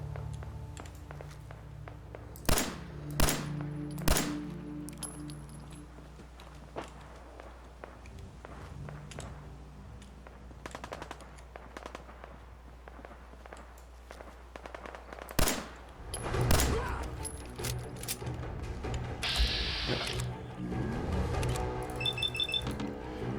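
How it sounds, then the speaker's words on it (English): Gunfire in Fallout 4 around Concord: scattered sharp shots and short bursts, some near and some distant, among footsteps and game ambience. "there's definitely shooting around here"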